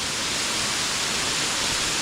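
The tallest waterfall on the Poličanka stream in the wild Idrijca valley roars as a steady, loud, unbroken rush of falling water, with no voices over it.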